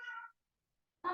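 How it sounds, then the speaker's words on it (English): A house cat meows twice, two short, clear calls separated by near silence, fairly close. "oh, there's my kitty."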